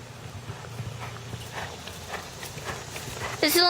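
A horse ridden under saddle, its hooves clip-clopping in a steady rhythm on the ground at close range, with people talking over it throughout.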